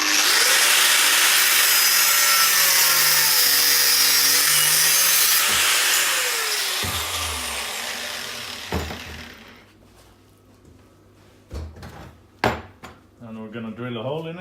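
Loud, continuous rasping of a saw cutting a piece in half for a firebox door on an offset smoker, then it stops, followed by a few knocks and brief handling sounds.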